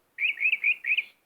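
Electronic bird chirps from a Fisher-Price bilingual learning toy table, a bright synthetic warble of about four quick connected tweets lasting around a second, loud and close with no talk over it.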